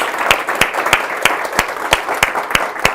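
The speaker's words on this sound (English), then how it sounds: "Can we give them a round of applause, please?" An audience claps for a customer service panel at a business event. The applause is loud and steady, with sharp repeated claps running through the whole stretch.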